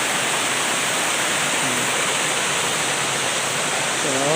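A waterfall near a clear stream in summer rain pours with a dense, unbroken roar that stays loud and even throughout.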